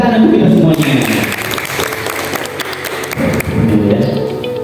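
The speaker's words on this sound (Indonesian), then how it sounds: "Oke, tepuk tangan untuk kita semuanya." Dense applause from an audience fills the clip, loud and steady, dipping slightly midway before swelling again, with some voices mixed in.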